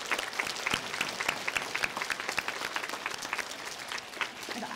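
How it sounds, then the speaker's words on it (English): Scattered clapping from an elementary school audience honoring students, moderately faint with individual claps standing out in an uneven, lively patter that continues throughout. "Let's give those guys a round of applause."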